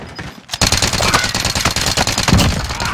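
Loud rapid gunfire in the video game Call of Duty Warzone, a dense rattling burst of automatic shots that starts abruptly after a brief quiet moment and continues steadily to the end.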